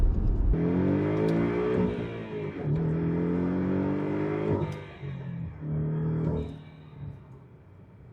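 A Porsche 718 Cayman S engine with aftermarket downpipe and blow-off valve revs up repeatedly with rising whine, each pull ending in a quick hissing release, loud and close.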